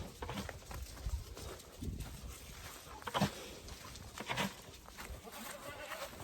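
Goats bleat intermittently amid shuffling hooves and rustling, several animals moving close by, with no voices.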